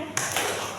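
An audience in an Indonesian teacher-training session gives one quick, sharp burst of clapping on a cue, close and brief, with a voice nearby.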